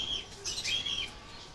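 Pigeons flap their wings in a brief flurry while being held in the hand, a soft close fluttering burst over about a second, with faint chirps above it.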